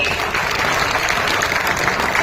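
An audience at an award ceremony claps loudly and continuously, a dense, even wash of applause from many hands filling the whole moment.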